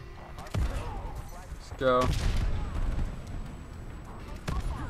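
A strafe run airstrike killstreak in Call of Duty rains down as loud gunfire bursts and booming impacts, with a sharp burst near the start and a heavy barrage in the middle while a player speaks briefly.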